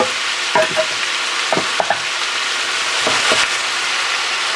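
Onion fries in lard in a pan with a loud, steady sizzle, broken by several brief stirring scrapes as the pieces are moved around.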